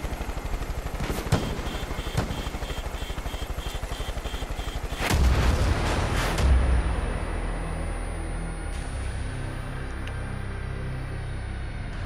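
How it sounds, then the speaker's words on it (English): In Far Cry New Dawn, rapid mechanical gunfire rattles, then heavy booming blasts erupt midway, followed by a lingering rumbling drone with occasional thuds. "I'm hearing explosions"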